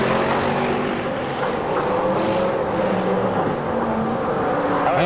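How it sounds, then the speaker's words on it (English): BriSCA Formula 1 stock cars race around the Boston oval in 1992, a steady loud roar of several engines blending together with changing pitch as the pack circles the track. "Owen Brown in car number 200 powers his way around 1 and 2, about to give Dave Hardy"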